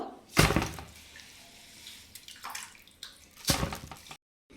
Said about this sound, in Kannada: ಇದನ್ನು ಎಲ್ಲ ತೊಳೆದು ನೆನೆಸಿರೋದ್ರಿಂದ ನೀರನ್ನು ಬಸೆ ಹಾಕಬೇಕು.